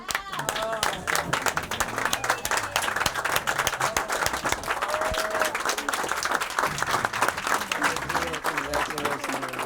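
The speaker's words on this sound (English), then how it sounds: "Could we all stand up and applaud for Miss Ruby Dee?" A standing audience gives actress Ruby Dee loud, dense, continuous applause, many hands clapping close together, with scattered voices and cheers mixed in throughout.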